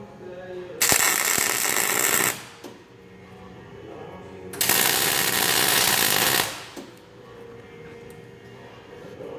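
A bandsaw cuts 30 lb steel anvil stock in two loud bursts of harsh grinding noise, each lasting about two seconds and separated by a quieter pause.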